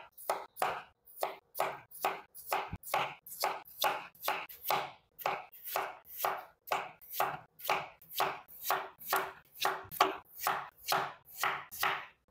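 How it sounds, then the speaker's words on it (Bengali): A knife slices new potatoes thinly on a board in a fast, even run of about two dozen crisp, close chops, each a sharp tap with a brief scrape, and nothing else in the background. "তো এখন আমি নতুন আলুগুলো কেটে নেব। একটু পাতলা পাতলা করে কেটে নিতে হবে।"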